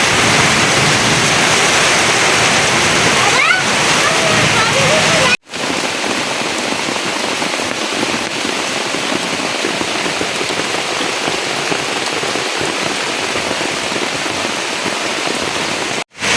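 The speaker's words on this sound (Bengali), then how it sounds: "অনেক ঝড় তুফান হইতেছে, অনেক বৃষ্টি হইতেছে।" Heavy rain pours down steadily during a storm in a rural village, a loud, dense, unbroken hiss that cuts out for a moment near the middle and again at the very end.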